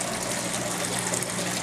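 Water pours and gushes continuously through a small DIY aquarium sump, a steady close rushing wash with a low pump hum underneath.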